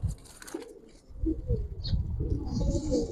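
A pair of Giribaz jumper pigeons with black beaks coo in low, rolling murmurs close by, accompanied by faint pecking and shuffling sounds and a short high chirp.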